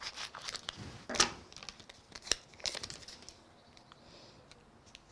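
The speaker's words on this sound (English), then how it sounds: "we'll trim away the extra bit, keeping the scissors at an angle" Scissors snip and trim a die cut card: a few sharp cuts and crisp paper rustles in quick irregular bursts, close and fairly quiet, fading to softer handling toward the end.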